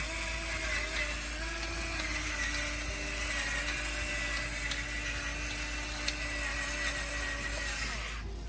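Battery-operated electric pepper grinder running continuously with a steady motorized whir and faint crunching while grinding over tomato basil soup, close and unbroken for the whole stretch before stopping at the end.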